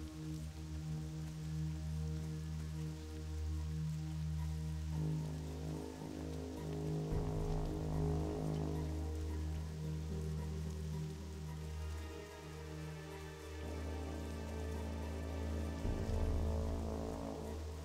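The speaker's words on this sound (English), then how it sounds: "It's a rainy day in the wetlands." Steady rain patters continuously over the wetlands zone in World of Warcraft, layered under a sustained droning game music bed, with no talking.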